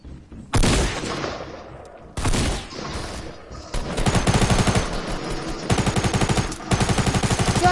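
Bursts of rapid video game gunfire crack loudly and close, with a few long automatic volleys separated by short gaps, then denser rhythmic fire toward the end.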